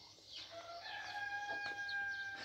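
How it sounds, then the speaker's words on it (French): Chickens in Tunisia crow and cluck faintly in the distance, with a few thin crowing calls and soft clucks over a quiet outdoor background. "Et des poules aussi."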